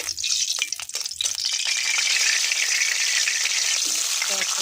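Oil sizzling and crackling steadily in a frying pan, with bay leaves added, as a dried fish dish gets started; a loud, continuous close hiss after a few clattering stirs at the start.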